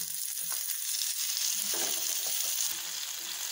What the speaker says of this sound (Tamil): இந்த 4 மீனையுமே இந்த இதில் அப்படி போட்டுட்டேன். இது கொஞ்ச நேரம் வேக விட்டேன்.